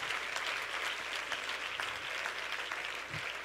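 A church congregation applauds during a sermon, a sustained wash of many hands clapping at once, even and moderately loud, with faint voices mixed in underneath.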